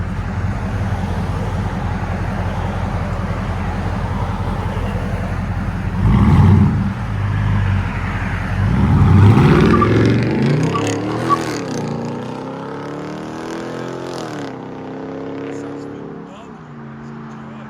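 A RAM 1500 pickup's 5.7L V8 with Carven true dual exhaust idles with a deep, throaty rumble, then revs up hard in rising bursts before settling back, heard close up with voices nearby.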